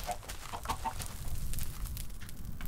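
Chickens cluck softly in TerraFirmaCraft, a Minecraft mod, in a short, steady stream, with a few brief higher calls early on over a low, constant background hum.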